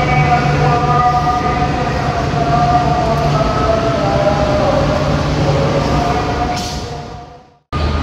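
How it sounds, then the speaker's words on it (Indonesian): A steady, loud rumble and hum of station ambience fills the platform of Halim high-speed railway station, with tonal machinery drone, fading near the end before a sudden cut. "ini ya peron, suasana peron stasiun Halim kayak gini kurang lebih"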